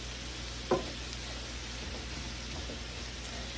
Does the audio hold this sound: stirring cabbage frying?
yes